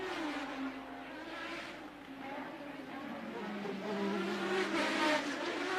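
Formula 1 race cars lapping the 1988 Monaco Grand Prix street circuit, a steady high engine drone that holds continuously and swells slightly toward the end, heard from a distance.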